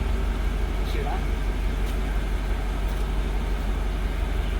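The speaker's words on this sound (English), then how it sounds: "Muffler's out. It's still relatively quiet and idle." Mercedes ML55 AMG engine idling with its muffler removed, giving a steady, even low rumble that runs continuously and fairly loud throughout.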